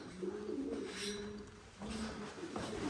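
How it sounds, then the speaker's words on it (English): Pigeons coo softly in low, rounded phrases, repeating several times against a quiet, hollow-sounding background in a tunnel at a historic mining park in Tonopah, Nevada. "Well, it sounds like pigeons."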